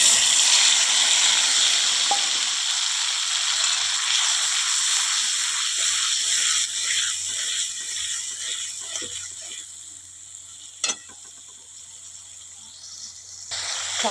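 A spice paste of chilli, cumin and turmeric powders sizzles in oil for a sea fish curry, with a loud hiss at first that fades to a softer crackle and scattered clinks of utensils.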